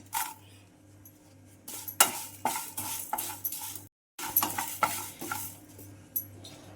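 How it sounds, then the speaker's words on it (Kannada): Pieces of five Byadgi red chillies hit a pan of roasted spices for chutney avalakki, giving quiet sizzling under a series of close metal spoon scrapes and clinks, with one brief pause. "5 ಬ್ಯಾಡಗಿ ಮೆಣಸಿನ್ಕಾಯಿ ಹಾಕೋತೀನಿ"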